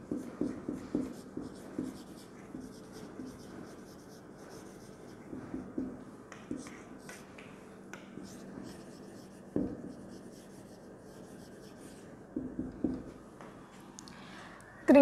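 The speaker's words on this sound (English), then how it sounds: "Now I write it down here, new words." Hand-writing on paper during an English lesson, heard as faint, close scratching pen strokes that come in short bursts separated by quiet pauses.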